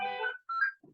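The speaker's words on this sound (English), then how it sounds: "somebody's phone ringing." A mobile phone rings during a Rotary club meeting, giving two short tonal bursts of its ringtone followed by a brief softer blip, close and clear, with no talk over it.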